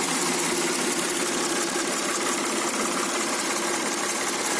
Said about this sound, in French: Donc le V6 3 litres, essence,